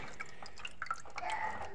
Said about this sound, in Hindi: ग्रीन पी धो रहा है, साफ कर रहा है ग्रीन पी